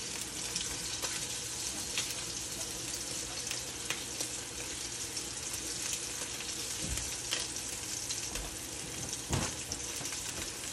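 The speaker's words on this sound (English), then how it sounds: "We can actually watch the progress of the pork being cooked as it moves up from the bottom to the top" Pork chop searing in a hot, slightly smoking pan, a steady close sizzle and crackle with occasional sharper pops throughout, no talking.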